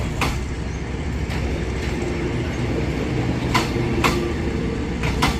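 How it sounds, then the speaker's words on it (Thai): A CNR luxury sleeping-car passenger train rolls past with a steady, close rumble, and wheel clicks and clacks sound over the rails at irregular intervals, with no voices. "นี่คือรถที่หรูที่สุดแล้วนะครับ ที่เรามีอยู่เป็นรถนอนนะรถนอนหรูสุดแล้ว เซตนี้ก็เรียกว่ารถ CNR"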